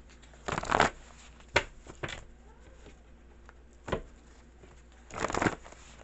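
Playing cards handled and shuffled close by: several quick crisp riffling bursts and sharp flicks separated by quiet pauses, with no talk.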